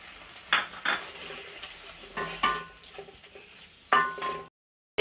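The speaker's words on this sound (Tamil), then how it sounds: "முருங்கைக்கீரையை போட்டுட்டு நல்லா வந்து இப்படி நல்லா வதக்கி விட்டுக்கணும் கொஞ்ச நேரம்" Moringa leaves being sautéed in a pan, with a light, steady sizzle broken by several distinct spatula scrapes and clinks against the metal, close and fairly loud, then cutting to silence at the end.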